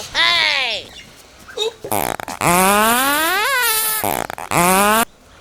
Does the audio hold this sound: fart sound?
yes